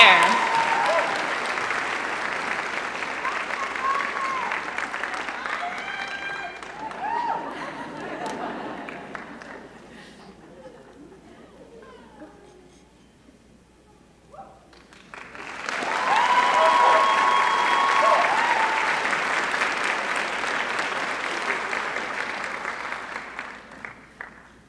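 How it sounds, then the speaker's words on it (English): A commencement audience applauds new PhD graduates at a university sociology department ceremony. Loud clapping and chatter at the start fade during a quieter stretch, then a second strong burst of applause follows and continues to the end. "Let's have a round of applause for all of our new PhDs."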